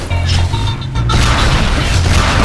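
Rocket explosion in Unreal Tournament 3, a loud close boom that briefly drops away, then resumes as a sustained roaring blast over a steady engine-like drone.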